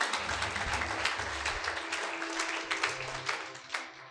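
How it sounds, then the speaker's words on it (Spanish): Audience at a motivational training event applauding, a lively burst of clapping from a crowd with sharp individual claps standing out, tapering toward the end. "Aplauso para ustedes."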